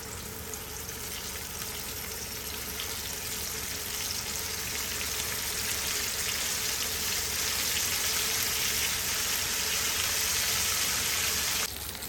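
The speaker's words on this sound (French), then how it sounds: "Je viens plonger mes morceaux de poisson dans l'huile chaude." Pieces of fish frying in hot oil in a pan, a dense, steady crackling sizzle that holds close and loud without a break for the whole stretch, no voices over it.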